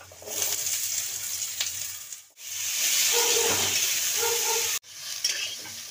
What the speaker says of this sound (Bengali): আলু দিয়ে দিচ্ছি, আলুগুলো ভেজে নিচ্ছি।